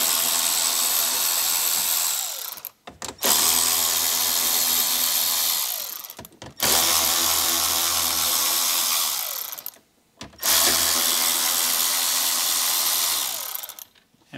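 Power tool spinning out 7-millimeter screws holding the radio in a Jeep Wrangler dash: four long, loud whirring runs of a few seconds each, separated by brief pauses, with no talking.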